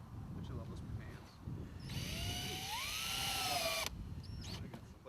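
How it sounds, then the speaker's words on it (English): Power drill driving a screw into the end plate of a plastic septic infiltrator chamber outdoors, one sustained whining burst of about two seconds with pitch rising and falling as load changes, between quiet background sounds. "And then put screws in this to stay."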